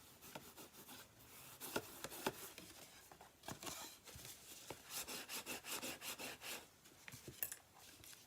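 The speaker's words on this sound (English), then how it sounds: "Go ahead and give that a burnish." Paper fold on a gift box being burnished, a run of soft dry rubbing strokes in uneven bursts, close and fairly quiet with no speech.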